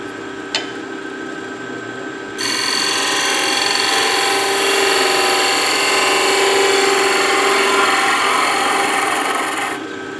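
A power tool grinds wood away in a workshop, a loud steady abrasive rasp starting after a brief quieter lead-in and running continuously for several seconds before cutting off, with no talking.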